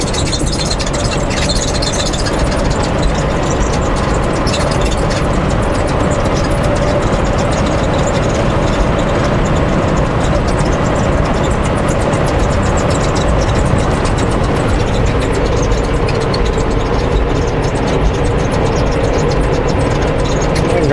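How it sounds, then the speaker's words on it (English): A bobtailing semi truck cab with no trailer attached rumbles along steadily at low pitch, loose items inside rattling and shifting throughout, loud and continuous with no talk. "It's a rough ride when we're bobtailing."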